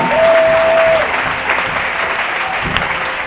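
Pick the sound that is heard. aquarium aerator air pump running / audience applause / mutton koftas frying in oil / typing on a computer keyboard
audience applause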